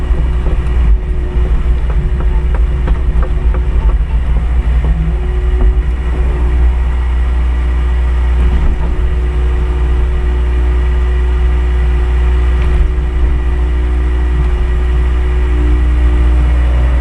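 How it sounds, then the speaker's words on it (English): An 8-ton tracked digger on metal tracks with rubber cleats packs material down, giving a steady, loud low engine rumble and drone that holds throughout with no talk. "I am just packing it in with the digger, but it's an 8-ton digger on metal tracks with rubber cleats"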